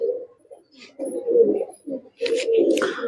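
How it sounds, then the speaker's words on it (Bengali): A female racing pigeon coos up close in several soft, throaty bursts separated by brief pauses. "এটা হচ্ছে একটা রেসার পায়রা"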